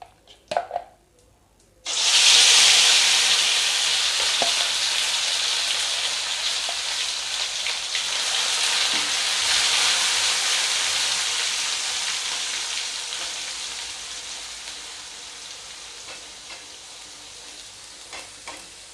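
Masala for Kolhapuri misal hits a hot pan and bursts into a loud, close sizzle with stirring scrapes. The frying stays strong, then gradually softens over the following seconds, and no voices are heard.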